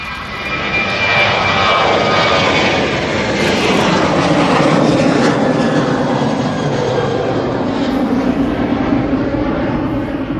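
Ryanair airliner rotating on its takeoff run at East Midlands Airport, a loud, steady jet engine roar that fills the whole stretch without letting up, with no talk over it.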